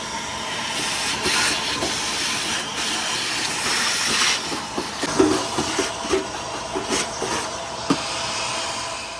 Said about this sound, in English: I might just clean it up with some brake cleaner first because it looks like it has a lot of oil